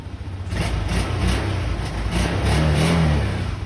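A Honda Click 150 v2 scooter engine runs after a CVT repair and remap, revving with a loud steady drone and rhythmic pulsing surges, heard close up with no talk.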